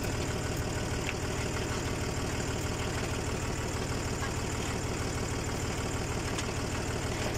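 A tractor engine runs steadily in gear with a constant, even mechanical chug and rumble, close and moderately loud, with no talking.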